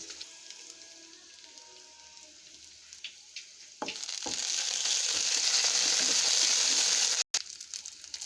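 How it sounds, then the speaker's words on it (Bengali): Sliced pumpkin fries in a pan, a bright crackling sizzle swelling up loudly after a few quiet clinks and holding steady, with a brief cutout near the end. "এখন মিষ্টি কুমড়া ভাজি করবো"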